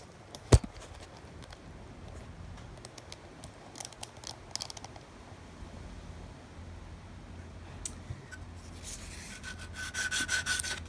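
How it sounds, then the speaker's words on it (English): A strip of sandpaper is rubbed back and forth over a handmade swimbait clamped in a vise. The scraping is soft and close, with scattered light clicks and a slightly louder rasp near the end. "getting a strip of sandpaper and just going like that over it gets it"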